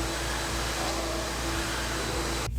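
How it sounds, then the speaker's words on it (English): An industrial-grade vacuum pulls up concrete dust after floor grinding, giving a steady, loud broadband roar with a constant low motor hum. It runs unbroken and then cuts off abruptly at the end. "we vacuum all the dust"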